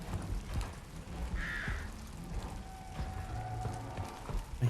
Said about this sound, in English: I hear crow